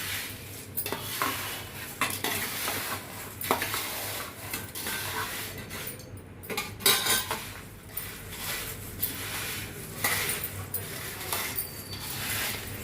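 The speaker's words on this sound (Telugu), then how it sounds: "ఇప్పుడు ఇవన్నీ కూడా చక్కగా కలిపేసుకుందాం" Spoon stirring and mixing upma rava snack ingredients in a metal bowl, with repeated scraping and clinking strokes in an irregular rhythm, close and moderately loud, with some talking.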